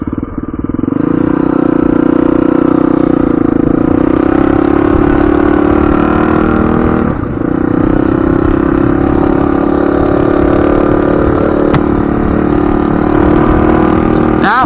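A motorcycle rides along a trail in Nevada, its engine droning steadily and close for the whole stretch, with a brief dip in pitch midway.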